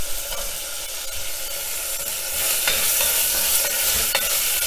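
Green beans for a Thai green curry fry in a pan with bright, steady sizzling and stirring scrapes, the hiss rising louder partway through; no talking.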